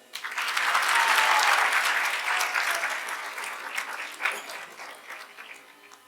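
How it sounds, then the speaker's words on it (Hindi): An audience at a religious discourse event in Amritsar claps in a sustained, dense round of applause that swells quickly, holds, then gradually thins and fades. "अब तालियां बजाओ।"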